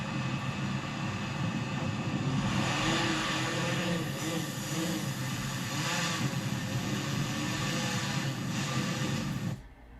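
Fishing drone launching and flying out from a surf-fishing beach: a continuous loud whirring buzz of propellers, with a steady wind-like roar, lasting about nine seconds before cutting off sharply.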